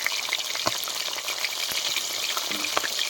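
Bhakur fish fries in a pan with a steady, close, dense sizzle and scattered crackles and pops throughout, with no talking.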